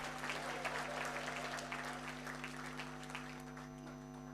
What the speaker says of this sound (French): Applaudissez pour nous